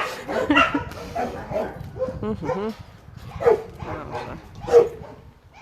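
Dogs at an animal shelter housed in wooden kennels give short yips, whimpers and barks, near and moderately loud, under brief murmured talk from a person.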